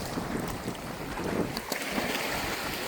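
Strong sea wind blowing across a beach, rushing and buffeting the microphone in loud continuous gusts, with faint surf underneath.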